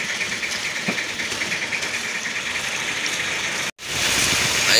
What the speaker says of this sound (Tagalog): nag-andar na rin sa wakas yung makina nila